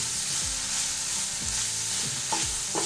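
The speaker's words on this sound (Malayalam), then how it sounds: "ഇത് നന്നായിട്ട് ഇതൊന്ന് വഴറ്റിയെടുക്കണേ." Masala for a thick prawn curry sizzles and fries steadily in a pan while a spatula stirs it in repeated scraping strokes. The sound is close and continuous, and no one speaks.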